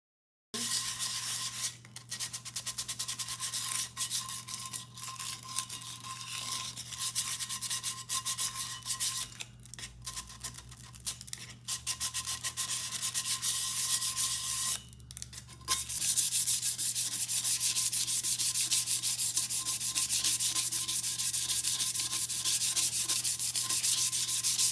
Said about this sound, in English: I'm going to take a piece of 120 grit sandpaper and I'm going to go around and sand the entire tumbler